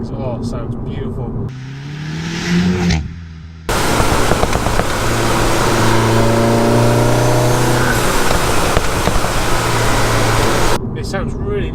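Turbocharged VW Golf GTI Clubsport S engine revving loudly and close, a steady sustained drone with rising tones, preceded by a brief rev and followed by outside noise; no talk.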